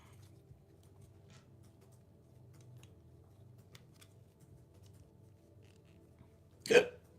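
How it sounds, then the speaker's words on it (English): A single sharp hiccup breaks a quiet indoor scene late on, close and brief, after several seconds of faint room noise while building a model. "Oh, hiccups."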